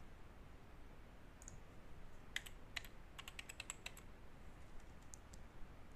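A password is typed on a computer keyboard, with a short burst of soft, quick key clicks over faint background hiss, starting after a pause and ending in a few scattered taps.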